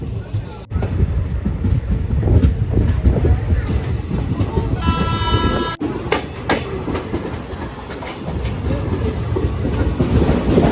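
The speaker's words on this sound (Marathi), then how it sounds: "पाच मिनटं थोपल्यावर ट्रेन निघाले पुढं" A Konkan Railway train rolls steadily along the tracks with a continuous low rumble and rhythmic clatter, loud and close throughout, with a brief high whine partway through.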